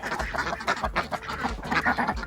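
Several ducks quack in quick, overlapping bursts, fairly close and moderately loud, with a steady chatter of calls throughout.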